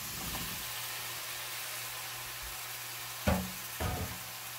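Food frying in a pan on a stovetop beside a finishing meatloaf: a faint, steady sizzling hiss throughout, with a couple of brief clatters of utensil or pan contact near the end.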